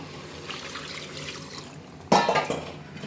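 A quiet room hum, then a sudden splash of water poured into a cooking pot of sautéed, spiced duck meat curry that fades within about a second.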